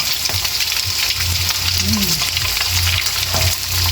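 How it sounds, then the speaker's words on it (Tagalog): Bopis, a Filipino dish, fries in cooking oil with a constant close sizzle and faint stirring clatter, steady throughout with a brief low murmur of background noise. "fried na sa mantika"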